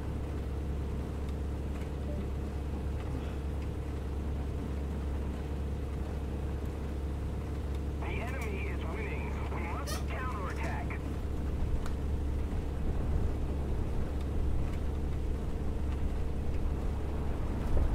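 A fighter aircraft engine in a flight simulator game drones low and steady throughout, with a brief burst of higher-pitched noise midway and faint voices in the background.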